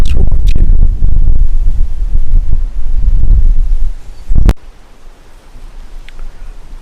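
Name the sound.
strong wind outdoors after storm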